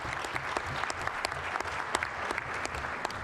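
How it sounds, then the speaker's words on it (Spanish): A conference audience claps steadily for a speaker, dense and continuous applause at moderate distance, lasting a few seconds. "Entonces, un aplauso para Fernando."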